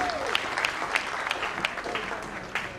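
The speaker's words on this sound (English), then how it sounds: "Can I hear that applause one more time?" Moderate audience applause for a former governor at an assembly, continuous clapping with a few sharper individual claps standing out, somewhat distant and soft.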